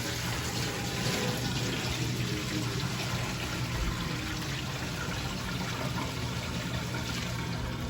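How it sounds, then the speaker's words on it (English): Whey being poured off goat milk mozzarella curds gives a steady, close splashing pour of liquid that runs without a break from start to finish, with no talk over it. "We are going to dump off the whey that is on top."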